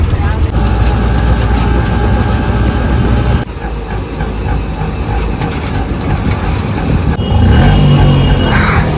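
Steady engine drone and road rumble inside a crowded MSRTC Lalpari state transport bus heading toward Kanhaiyanagar, Jalna, loud and continuous for the whole stretch with shifts in tone as the ride goes on.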